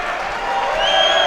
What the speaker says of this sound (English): Terrific appreciation from the crowd